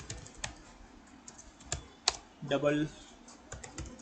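Quick bursts of typing clatter on a computer keyboard, with irregular sharp key clicks spread through the clip while someone speaks briefly in Hindi.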